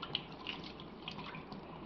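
Warm tap water runs steadily into a sink over a piece having tape peeled off under the stream, a quiet continuous splashing trickle with small drip-like accents and no voices.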